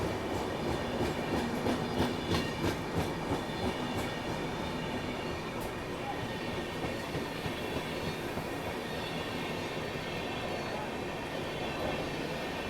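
Tirupati–Sainagar Shirdi express train running, a continuous broadband rumble with rhythmic wheel clatter heard from on board, steady and moderately loud throughout.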